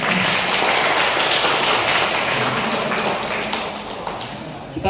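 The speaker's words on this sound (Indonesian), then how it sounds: "Tepuk tangan kita semua." Congregation applauding together at a church family gathering, a dense steady wash of clapping that holds loud for several seconds and thins slightly toward the end.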